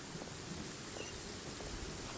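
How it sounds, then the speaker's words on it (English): Steady rain with a low thunder rumble in the video game Genshin Impact, a faint, even wash of noise with no voices. "Can we get out of the rain?"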